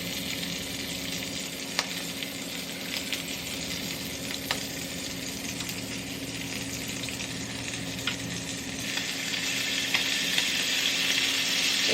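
Bacon frying in a pan with olive oil, a dense continuous sizzle and crackle with occasional sharper pops, close and steady, slowly building a little louder toward the end, with no talking.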